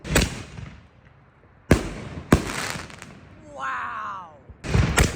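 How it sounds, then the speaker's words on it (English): New Year fireworks burst nearby in separate loud booms, about four sharp blasts with crackling decay and a whistling rising streak between them, set against a quiet night background. "More fireworks incoming."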